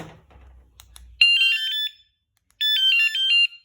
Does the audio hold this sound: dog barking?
no